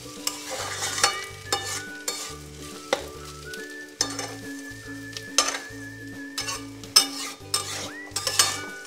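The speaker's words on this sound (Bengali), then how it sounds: "চালটা হালকা হওয়া পর্যন্ত ভালো করে ঘিয়ের সাথে এইভাবে ভেজে নিতে হবে।" Raw rice is stirred and fried in ghee for white pulao, with repeated scraping spatula strokes and clinks against the pan over a soft sizzle, as background music plays.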